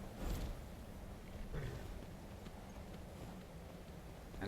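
Faint, soft hoofbeats of a horse in the video game Skyrim clop along at a walking pace, low in level, with no talking.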